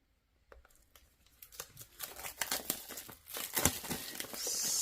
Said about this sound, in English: join me as I unbox the Field Tarot